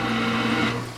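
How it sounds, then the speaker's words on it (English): A household pump sending wastewater to a septic tank gives a steady mechanical hum with a constant tone, close and fairly loud for a brief moment. "It's a pump that takes the water and brings it to the septic tank."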